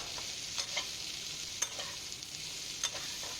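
Potato strips fry with bitter gourd for a prawn curry, a quiet steady sizzle with a few sharp spatula taps and scrapes against the pan, no voices.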